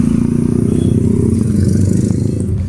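A motorcycle passes close by with a loud, steady rumbling engine that fills the moment from start to finish.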